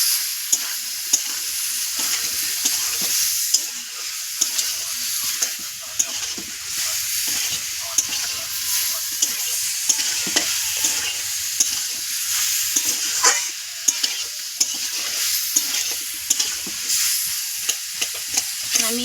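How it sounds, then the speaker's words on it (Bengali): Ground cumin and other spices sautéing in a hot pan for a vegetarian bottle gourd curry, a steady sizzle broken by frequent scraping strokes of a spoon stirring, close and continuous with no talking. "এবার আমি মশলাটা ভালো করে কষি আমি"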